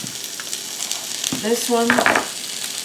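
Small cut-up pieces of Conecuh Cajun sausage sear in a pan with a steady broadband sizzle, while a person speaks briefly over it midway.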